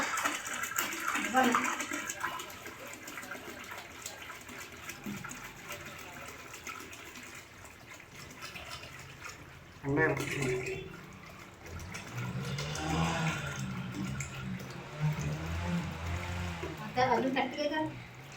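Water from a borewell gushes steadily into a drum, a continuous rushing flow with voices talking over it at times.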